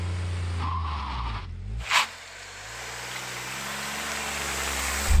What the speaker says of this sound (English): Bit of clutch slippage.